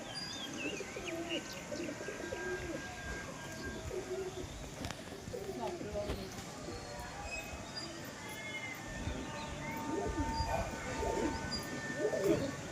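Pigeons coo in soft, repeated throaty phrases after a pigeon is released from a rooftop. Scattered chirps mix in, and faint voices murmur in the background throughout.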